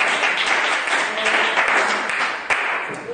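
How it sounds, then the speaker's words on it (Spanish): A church congregation claps in applause, a dense, steady roar of many hands throughout, loud and close with a few sharper claps standing out. "¿Por qué no hacemos ese aplauso para el Señor? Bien fuerte ese aplauso para nuestro Dios."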